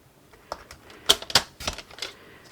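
Whisper white cardstock being trimmed to a narrow strip with a paper trimmer, heard as a few quick, close, crisp clicks and slicing snaps in a quiet room.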